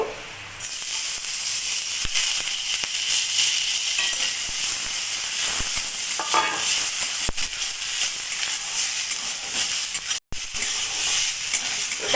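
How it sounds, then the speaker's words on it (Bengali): Masoor lentils frying in hot mustard oil in a wok, a loud, dense, continuous hissing sizzle with occasional faint stirring scrapes, close up. "এবার মুসুরির ডাল দিয়ে দেব ডাল হালকা করে ভেজে নেব"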